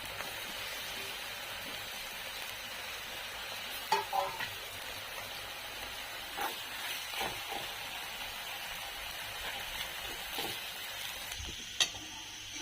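Jackfruit vegetable frying in oil with a little salt, stirred in a pan: a steady close sizzle with occasional scraping and clinking of the spoon against the pan, no talking.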